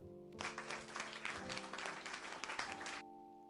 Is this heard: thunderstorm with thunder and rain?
no